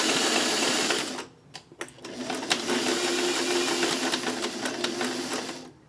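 Close by, a sewing machine stitches a short fabric strip for a crumb quilt block, whirring briefly, pausing with a few small clicks, then humming steadily again.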